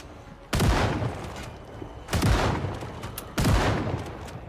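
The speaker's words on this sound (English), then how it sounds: "I'm almost out of ammo, by the way, so... Don't worry, uh, soon I'm gonna stop shooting" Three heavy gunshots ring out in Project Zomboid, each a sharp loud blast with a long reverberating tail, spaced about one and a half seconds apart.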